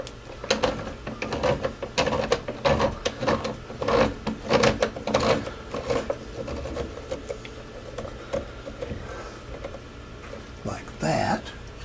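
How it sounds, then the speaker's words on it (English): Wooden box clamped during hand assembly: a string of sharp knocks, clicks and ratcheting clunks from clamps being set against the box end, close and fairly loud, with talk in the background. "Clamp on the other end."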